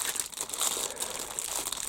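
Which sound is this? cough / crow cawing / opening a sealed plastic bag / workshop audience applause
opening a sealed plastic bag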